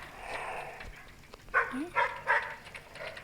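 A few short dog barks sound in quick succession from the Fortnite video game, moderately loud over a low game background with no talking.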